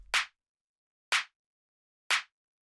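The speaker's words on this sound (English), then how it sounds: "the last one that we have here is this clap, which sounds like this" A punchy, hard-hitting clap sample for house music strikes three times alone. Each hit is crisp and short, and the hits are spaced evenly about a second apart in a dry, silent gap.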